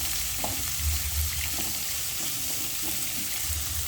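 Green chilies frying in a pan of hot oil for idiyappam kothu give a steady close sizzle with soft crackles and occasional stirring scrapes, no voices.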